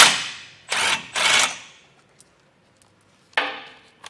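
Short bursts of rattling mechanical noise as a 21mm socket on a tool backs a long tow hook bolt out of a 2024 Ram 1500, three quick runs close together, then a pause and a final burst.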